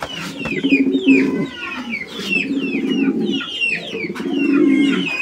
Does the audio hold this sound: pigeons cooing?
yes